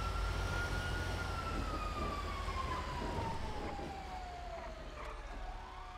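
Police sirens in the GTA V video game wail steadily, one long tone gliding slowly downward while the sound fades a little, over a constant low engine and traffic rumble.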